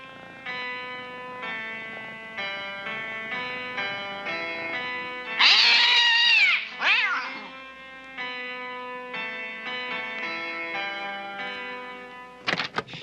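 Cats meow in a 1982 black-and-white animated short, a pair of drawn-out, wailing mews rising over a steady, tinkling music score, with a brief cry again near the end.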